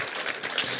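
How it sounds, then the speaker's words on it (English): Audience applause breaks out for a podcast guest, a steady broadband clatter of clapping that stays fairly even and moderately loud through the short moment. "Give him a round of applause."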